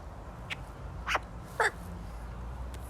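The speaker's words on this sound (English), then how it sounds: "Bird." A few short, harsh bird calls ring out over steady low background rumble, spaced apart with the last two louder and closer.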